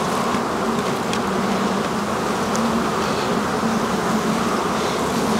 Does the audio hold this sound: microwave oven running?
no